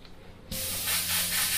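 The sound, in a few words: Iwata HP-BCS airbrush spraying through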